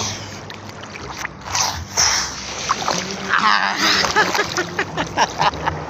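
Big sea waves roll and crash at a beach, with washing surges and splashes building and falling while people nearby talk and laugh over the water.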